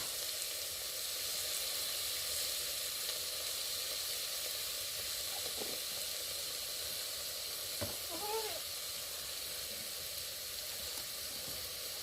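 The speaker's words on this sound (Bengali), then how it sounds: "এখন সব মশলা দিয়ে নেওয়া হবে দিয়ে নিয়ে ভালোভাবে কষিয়ে নেওয়া হবে" Ground spices frying in a pan in a village kitchen: ginger, garlic and cumin paste with turmeric. A faint, steady sizzle and hiss runs throughout, with a few soft stirring clinks near the end.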